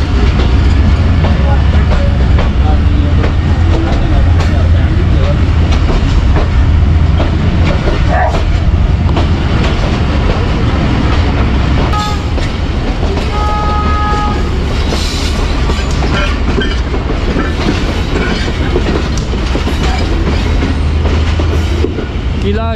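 Badar Express passenger train coach travelling between Lahore and Faisalabad near Sheikhupura, with a loud, steady rumble and rattle throughout and faint voices inside the coach.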